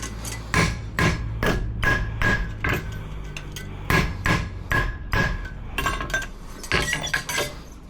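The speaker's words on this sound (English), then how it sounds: "You see me there just going through my nail holes with the back prick drill." A farrier punches nail holes in a horseshoe with a pritchel while shoeing a horse with chronic laminitis, giving a close, loud series of sharp metallic hammer strikes in uneven bursts.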